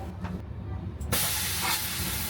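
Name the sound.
western-style toilet flushing in a train washroom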